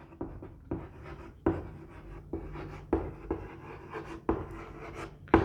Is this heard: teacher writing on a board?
yes